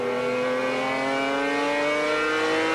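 A turbocharged 3.5-litre V8 Ferrari and a V12 BMW race at Silverstone in the 1995 BPR Global GT Series, their engines giving a loud, steady, high-pitched drone that rises slightly in pitch throughout without pause.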